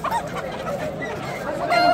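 Chickens and roosters cluck and call in a busy Baghdad poultry market, clustered and close, amid general market bustle.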